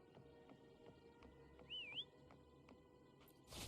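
A short rising-and-falling whistle in the video game Wuthering Waves, used to call a companion, heard faintly once over quiet game ambience with soft ticking.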